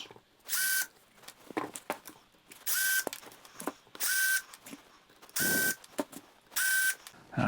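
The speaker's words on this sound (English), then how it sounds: "Let's pop these screws off quick" Screws are backed out of a mold for a urethane resin sculpture with a power drill, heard as five short, evenly spaced whirring bursts, close and fairly quiet, with small clicks and handling noise in between.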